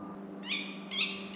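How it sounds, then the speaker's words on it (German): A tawny owl calls at night in a short outdoor recording, two soft hooting notes rising over steady low background hum, fairly distant and faint. "Kauz."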